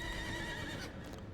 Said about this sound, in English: I got on my horse inside of a church.